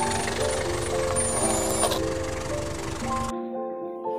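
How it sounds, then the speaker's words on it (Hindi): A vehicle drives away, a continuous engine rumble with steady tonal hums and high beeping lines that cuts off abruptly partway through, leaving a quieter hum. "गाड़ी लेकर वहाँ से चला जाता है"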